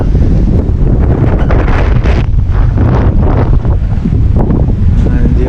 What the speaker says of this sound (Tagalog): palakas ng hangin mga kaduskis.